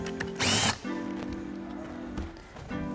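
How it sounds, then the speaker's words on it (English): A power tool, likely an impact driver, loosens the axle nuts on an Evolve electric skateboard's wheels: one loud, brief whirring burst, with a steady mechanical hum before and after, close up and without speech. "Undoing your axle nuts,"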